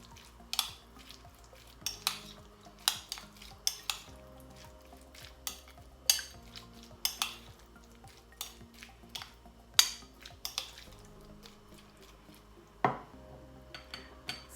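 Mayonnaise being stirred with a pinch of salt in a bowl, a utensil clinking and scraping against the sides in a steady, close, irregular rhythm of sharp taps, with no talking.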